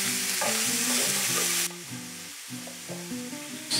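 Chicken and leek cooking in olive oil with garlic salt in a pot on the hob, a steady close sizzle and bubbling with stirring clatter, louder at first and then quieter as the heat is turned down.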